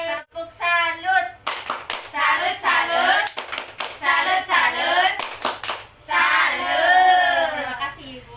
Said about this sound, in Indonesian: Kita tepuk dulu yuk buat kita semua. Tepuk salut.